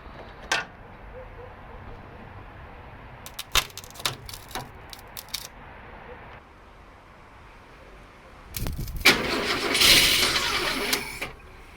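A 1962 Mercury Comet with a starter solenoid welded shut in the connected position: a few scattered clicks and knocks, then a loud, rough cranking burst of about three seconds that tapers off.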